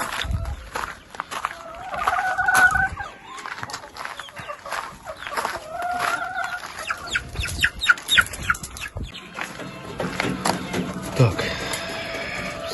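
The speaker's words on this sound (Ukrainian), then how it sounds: "курчат покормив, курей теж" Hens and chicks cluck and peep in a busy coop, with scattered footsteps and shuffling; a person talks intermittently nearby.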